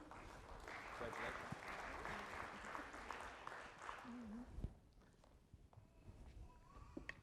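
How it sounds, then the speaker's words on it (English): Applause from an audience at a school foundation awards ceremony, broad clapping for the first few seconds under a speaking voice, then fading into quieter room noise and scattered sounds. "Let's give him a big round of applause"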